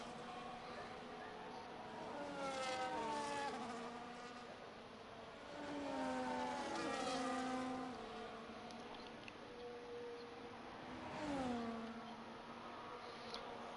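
Red Bull Formula 1 car engine on a hot lap in a racing video game at Zandvoort, a high whining tone rising through gears in several fast sweeps, moderately faint, with a voice talking over it.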